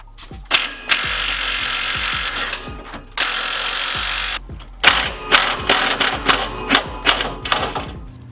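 Power tool works the rear shock bolts on a Jeep, several loud close bursts of whirring and rattling hammering with short pauses between them.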